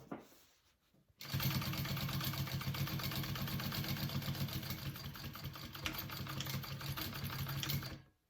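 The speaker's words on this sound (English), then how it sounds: "sew along the 3 sides and sew that down" A sewing machine stitches a pocket onto a fabric bag, running steadily and rapidly for several seconds after a brief quiet start, close and loud with no talking.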